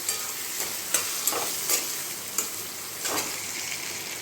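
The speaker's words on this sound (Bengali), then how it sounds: "বাদামগুলো দিয়ে দিচ্ছি। কারণ বাদাম তো বেশি ভাজতে হবে না, তাড়াতাড়ি হয়ে যায়" Peanuts frying and being stirred in a pan for a flattened-rice poha dish, giving a steady hissing sizzle broken by repeated scraping strokes of the spoon, close up with no talking.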